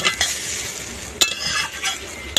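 Ridge gourd peel frying with turmeric and salt in a pan at a village kitchen, with a close crackling sizzle and several sharp clinks of a utensil against the pan, no speech.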